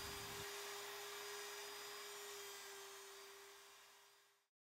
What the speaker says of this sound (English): Right now, I'm lowering the presser foot, activating the motor, and lowering the lever that operates the tracing rod.